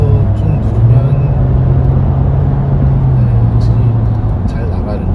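A KGM Musso gasoline SUV with an 8-speed gearbox pulling hard in sport mode, its engine holding a loud, steady drone with a slowly rising low tone, heard from inside the cabin under a person talking.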